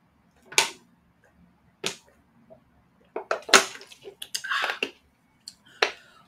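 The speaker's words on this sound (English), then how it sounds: "I'm going to have a drink of water." Someone drinks a glass of water close to the microphone, with sharp scattered clicks and gulping swallows separated by quiet gaps.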